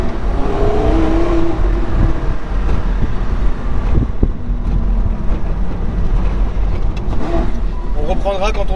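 A Porsche Carrera GT drives through Paris traffic, its engine a steady loud rumble with wind noise inside the cabin while people talk over it.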